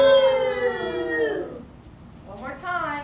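A group of children in a classroom farm-animal lesson imitate a cow with a long, wavering moo that slides downward and fades, then a shorter rising vocal call follows.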